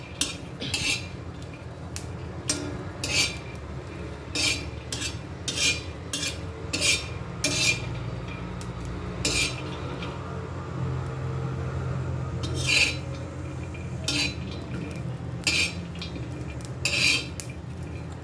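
Garlic roasting for a dry red chutney in a pan on a low flame, a spoon scraping and clinking against the metal in irregular bursts over a low steady hiss.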